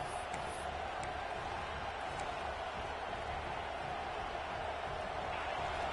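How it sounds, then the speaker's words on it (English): Stadium crowd roaring at a football game, a dense, steady wash of cheering and noise that stays loud and unbroken throughout. "Wow, listen to this crowd noise. This stadium is vibrating."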